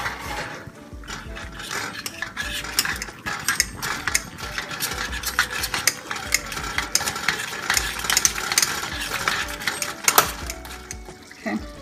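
Shepherd's pie filling with grated cheddar and Jack cheese being stirred and mixed in a bowl or pan, a busy, close run of wet clicks, scrapes and squelches that continues without pause for about twelve seconds.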